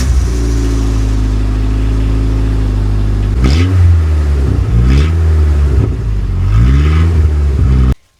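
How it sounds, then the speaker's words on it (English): An old beater Ford Ranger pickup cold starts with the muffler removed, its exhaust dumping right after the resonator, idling loud and raspy up close before several sharp revs rise and fall, then cuts off abruptly. "Let's give it a cold start and see how it sounds"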